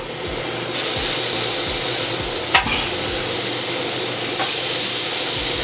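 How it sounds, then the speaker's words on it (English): Short ribs browning on a hot grill give a steady, loud, close sizzle and hiss, with a couple of sharper crackles standing out from the constant frying noise. "You hear that sizzle?"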